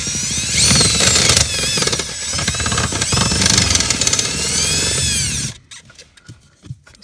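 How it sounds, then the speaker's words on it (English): An 11/16 drill bit bores a hole through a truck cab floor during a fuel controller install on a P-pump Cummins, a loud steady whine with a harmonic tone lasting several seconds, then cutting off abruptly into a few quiet clicks. "So we're going to go ahead and drill a hole here."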